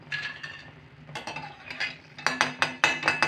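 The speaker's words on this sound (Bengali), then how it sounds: "সব পাপড়িগুলো আমি কিন্তু এইভাবে লাল লাল করে ভেজে নিয়েছি এরকম আওয়াজ দেখুন" Crisp deep-fried papri for papri chaat, reddened in oil, crackling and snapping in a quick run of sharp, close bursts that grow louder toward the end, with no voices.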